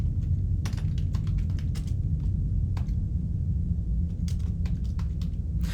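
Commands typed on a computer keyboard for the game Duskers: a steady run of sharp key clicks in uneven bursts over a constant low hum, with no talk.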